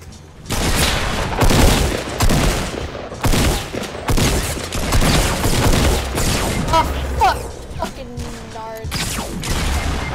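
Heavy video game firefight with dense, continuous volleys of gunfire and booms, loud and close throughout, easing slightly near the end.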